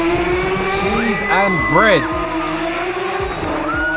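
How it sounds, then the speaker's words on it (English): A BMW E46 M3 engine revs toward 9000 rpm in a few quick, rising bursts, loud and close, while people talk excitedly over it. "Man, I love the sound of that engine."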